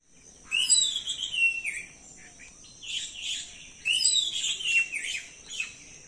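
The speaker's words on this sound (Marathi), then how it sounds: "पण खूप चिमण्यांचा चिवचिवाट चाललाय।" Sparrows chirping on a morning in a coconut grove in rural Konkan, bursts of bright overlapping tweets in two clusters with a short lull between, fairly close and clear over a quiet background.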